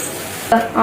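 Whole spices hit hot oil for a tempering in a home kitchen while gongura chicken curry is being made, giving a sudden loud sizzle burst partway through after a quieter stretch, then a second crackling surge.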